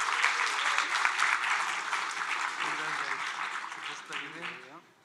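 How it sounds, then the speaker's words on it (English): Audience applause fills a hackathon closing ceremony as a winning team heads to the stage, steady clapping lasting about five seconds, then fading, with faint voices underneath. "Some applause, please."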